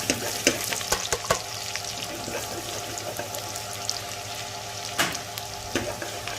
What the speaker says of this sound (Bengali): গার্লিক জ্বালাইছি।